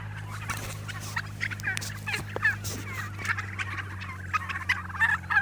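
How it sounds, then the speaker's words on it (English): Several turkeys on a regenerative farm gobble repeatedly at a moderate distance, their bursts overlapping over a steady low hum, with no talking. "So yeah, well loved turkeys. Do you hear them? Can y'all hear them?"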